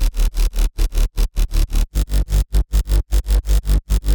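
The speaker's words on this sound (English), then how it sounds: "It is just a sine wave with some filtering" Synth sub bass built from a sine wave with filtering and distortion, layered with other bass sounds, pulsing in a fast, regular chopped rhythm of loud bursts with hard gaps between them.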